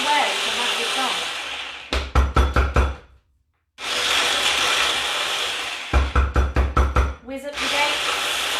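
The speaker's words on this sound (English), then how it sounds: "Whiz up your dates, give them a good whizzing in your food processor" Food processor whizzing dates for vegan no-bake brownies: loud whirring runs broken by bursts of rapid pulsing knocks, with a short silence between runs.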